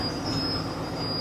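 Air hissing from a damaged truck air pipe that caught a spark, a constant shrill whistle riding over a dull running rumble, steady and nearby.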